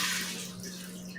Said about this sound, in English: we're going to drain our water